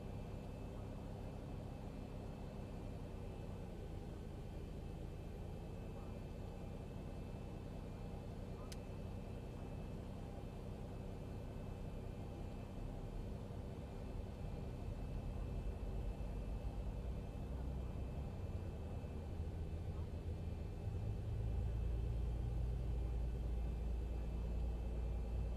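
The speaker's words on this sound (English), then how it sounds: "Starting number 1 engine." Simulated jet engine number 1 of a Boeing 737 spooling up in a flight sim, a steady low rumble and whine that slowly builds and deepens, growing heavier toward the end, with faint voice underneath.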